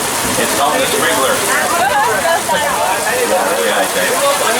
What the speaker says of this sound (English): Oh, look at that rain. Now that rain is coming out of a really high-tech piece of movie equipment.